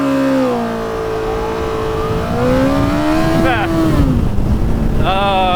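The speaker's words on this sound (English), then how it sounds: "You probably heard the revs almost go up a little bit as I lost my traction." A Kawasaki ZZR1400 sport motorcycle engine revs hard under acceleration, its droning pitch climbing, dipping with rear wheel spin, then surging again, loud and close with wind buffeting the microphone.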